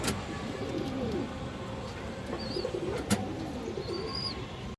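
A pigeon of an old local breed, at a bird market, coos in low, soft repeated phrases nearby, while other birds chirp faintly in the background and one sharp click cuts through.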